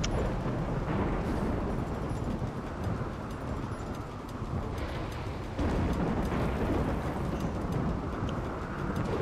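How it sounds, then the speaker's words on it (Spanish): Heavy rain pouring in RimWorld, a loud dense roar with deep rumbling thunder swelling beneath it, continuous throughout. "¿Cómo llueve, eh?"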